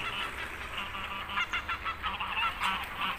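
Ducks squabble close by in the morning, repeated loud honking and nasal calls in quick overlapping bursts.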